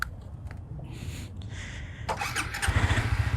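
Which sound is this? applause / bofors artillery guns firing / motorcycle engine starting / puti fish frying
motorcycle engine starting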